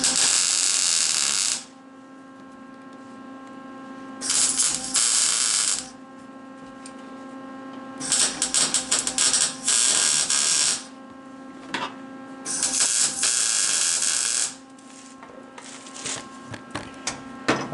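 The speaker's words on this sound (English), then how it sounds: "I'm going to tack this down onto this frame here." Tack welding a nut onto the floor pan of a 1981 Jeep produces loud bursts of crackling, buzzing arc noise, four or five separate welds of one to two seconds each separated by quieter pauses.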